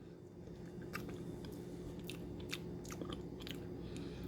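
Store-bought Fuyu persimmon bitten and chewed close up, a quiet run of soft crunches and wet, squishy mouth sounds with no talking.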